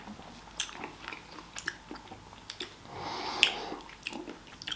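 Someone chews a plate of bulgur and courgette with vegan Heüra Mediterranean-style strips, soft close biting and mouth sounds with faint crunches and breathing, quiet and without speech.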